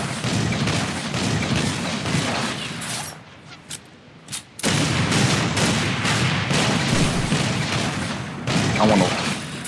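Gunfire from an unfamiliar weapon in Halo Reach comes as loud, dense bursts of rapid shots, with a brief near-silent gap broken by a few single cracks before heavy firing resumes.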